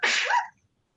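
A single short, sharp sneeze, loud and close, ending abruptly into silence.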